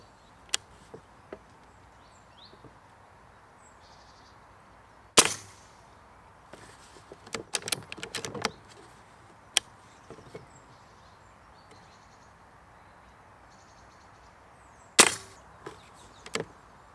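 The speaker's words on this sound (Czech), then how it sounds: "dali jsme se 3 rány, teď sundám ten tlumič" Suppressed shots from an Umarex 850 M2 air rifle in 4.5 mm calibre, fired outdoors at a target roughly 30 metres away: sharp, fairly quiet cracks stand apart in a sparse, irregular series with ambient noise and handling clatter between them.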